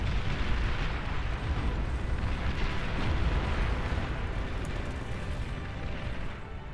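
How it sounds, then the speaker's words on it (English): Artillery fire in the real-time strategy game Beyond All Reason rolls through a massive 80-player battle as a dense, continuous rumble of overlapping blasts, loud and unbroken throughout. "Artillery starting to dot the high ground"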